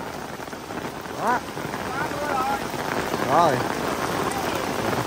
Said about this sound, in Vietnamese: mưa lớn rất là lớn